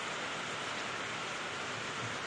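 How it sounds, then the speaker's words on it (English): Steady rain falling outside, a soft continuous hiss of drops on surfaces with occasional faint low patters, fairly quiet and even, with no talking. "It hasn't stopped raining."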